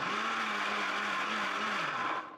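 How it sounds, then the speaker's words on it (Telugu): A mixie (mixer grinder) grinds cooled boiled baby potatoes to a smooth paste, giving a steady, loud whirring motor drone that holds even for about two seconds and then cuts off. "మిక్సీ పట్టుకున్నాము"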